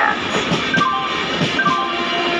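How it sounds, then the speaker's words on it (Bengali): A through train passes close by a station platform at high speed with a steady rumbling roar, faint wheel clatter and high metallic squeals from the rails. "through train passing from platform number four"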